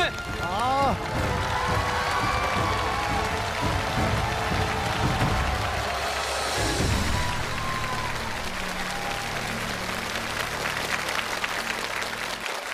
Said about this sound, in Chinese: 太棒了，掌声送给你们。